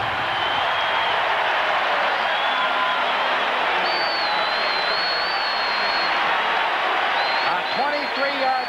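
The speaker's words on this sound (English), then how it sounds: "The crowd's coming to life, too." Stadium crowd roars and applauds after a touchdown at a 1985 NFL game between the Philadelphia Eagles and San Diego Chargers, a loud, sustained wash of cheering with whistles on top.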